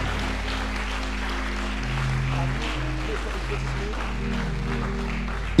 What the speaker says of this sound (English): Clap your hands for you people.